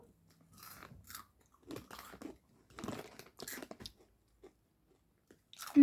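Close-up crunching and chewing of crisp jalapeño Cheetos in short bursts separated by quiet gaps, ending with a brief louder sound.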